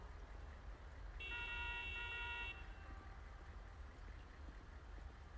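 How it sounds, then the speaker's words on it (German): Car horns blare in a single sustained honk of about a second and a half over a low idling rumble, then the engine noise carries on alone. "Warum hupen die denn jetzt eigentlich an,"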